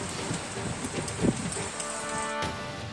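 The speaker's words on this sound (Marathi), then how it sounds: "नाशिकच्या सटाणा तालुक्यात वादळी वाऱ्यासह मान्सूनपूर्व पावसानं जोरदार हजेरी लावली" Heavy pre-monsoon rain with stormy wind lashes down in Satana taluka, Nashik district, a dense, steady patter and rush with scattered louder drops close by.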